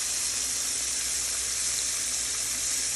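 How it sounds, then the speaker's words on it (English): Breaded pork chops frying in a pan give off a steady, even hiss of sizzling oil, close and constant throughout. "So we're going to continue to let these pork chops cook."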